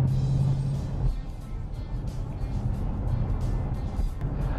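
Ford Mustang cruising in normal drive mode on Guernsey, a steady low engine and road rumble heard from inside the car, continuous and moderate in level with no sharp revs.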